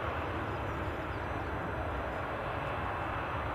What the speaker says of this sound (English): our United 757-200 is also on the move